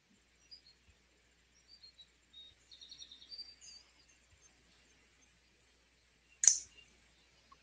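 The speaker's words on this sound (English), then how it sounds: "I'm literally hearing bird chirping." Faint, scattered bird chirps come through a quiet online meeting, several short high tweets and a trill in the first few seconds, followed by a single sharp click.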